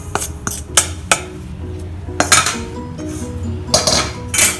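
Roasted rava is scraped and tipped from a pan into a vessel, with a series of close metallic clanks and knocks of utensil against cookware at irregular intervals, no talking.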